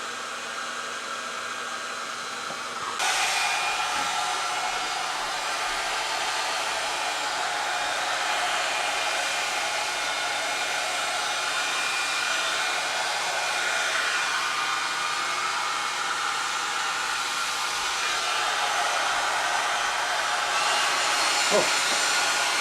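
A hot air heat gun cranked to full blows with a loud, steady whooshing hiss that jumps up sharply after a quieter start and then holds constant, with no talk.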